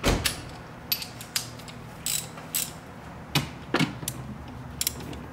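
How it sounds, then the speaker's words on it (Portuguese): A ratchet wrench loosens a bolt on an Audi that sat abandoned for years, giving short bursts of quick clicking with pauses between them, close and fairly quiet. "Catracar o bagulho."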